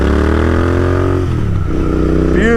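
A Royal Enfield Interceptor 650 twin fitted with S&S slip-on pipes accelerates hard, its loud exhaust note climbing through the revs, dipping briefly at a gear change, then pulling up again close by.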